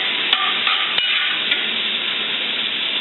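Peppers with garlic powder get stirred in a sizzling pan for stuffed bell peppers, a steady frying hiss broken by a few sharp utensil scrapes and clicks near the start.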